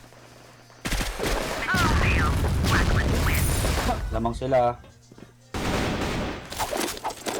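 Rapid bursts of automatic gunfire ring out in a competitive online shooter clan match, loud and sustained, with players talking over the shooting.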